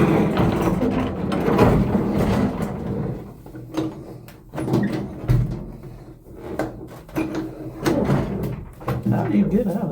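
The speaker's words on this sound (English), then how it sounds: "Doors do not open on their own. You have to open it yourself." A hotel elevator door is pushed open by hand, giving repeated heavy sliding rumbles and mechanical clunks while a person talks over the struggle.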